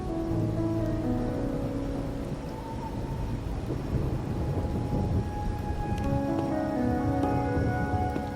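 Rain patters steadily in the video game Wuthering Waves while low rumbling thunder rolls through the middle, with soft tonal music-like notes drifting in the background.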